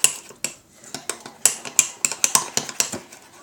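Quick, irregular clinks of a whisk or utensil striking a mug while flour is beaten into mug cake batter, a dozen or so sharp close taps with short pauses between them.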